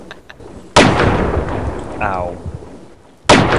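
Two loud, sharp video game gunshots about two and a half seconds apart, each a sudden full blast with a rough decaying tail, while a man gasps and yelps in pain between them.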